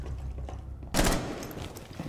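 A headshot in the tactical shooter Rainbow Six Siege comes through as one sharp, close gunshot burst midway, followed by a decaying rumble over steady game background.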